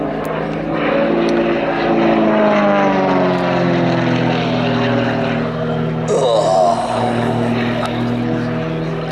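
A propeller-driven aerobatic aircraft flown in an airshow display drones loudly and steadily throughout, its engine pitch sliding as it climbs and turns over the top, with commentary speech running underneath.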